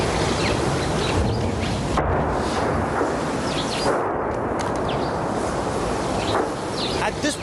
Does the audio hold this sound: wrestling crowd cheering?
no